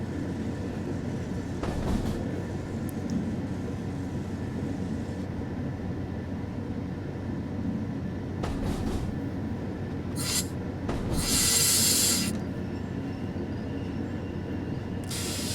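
A DB BR 628.2 diesel multiple unit runs steadily in Train Sim World 3, its engine drone and rolling rumble continuous, with occasional clattering bursts and a brief louder passing swell near the end.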